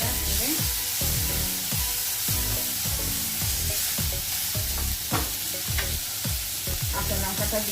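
Ginger and tomato are stirred through hot tempering oil, with a regular series of close scraping strokes over a constant bright sizzle.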